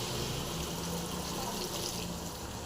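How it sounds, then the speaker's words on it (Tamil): Water pours into a pot of fried kara kuzhambu, a spicy tamarind curry with eggplant and dried fish, as a steady, close, continuous rushing splash with no talking. "ஒரு சம் தண்ணி ஊற்றிக்கலாங்க"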